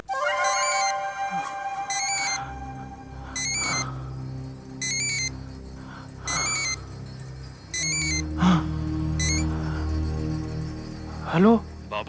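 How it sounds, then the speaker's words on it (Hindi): A mobile phone found in a trash bin plays a repeating electronic ringtone in short bursts spaced a second or so apart, moderately loud, with people talking in between and over it. "यहाँ किसी फोन की आवाज आ रही है।"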